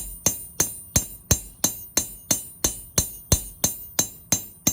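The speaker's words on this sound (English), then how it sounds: "I'm going to do it on the copper here, and I'm just going to come in and start hammering" A hammer striking copper sheet to texture the metal, about a dozen sharp ringing blows in a steady, even rhythm, each with a short metallic decay, close and alone.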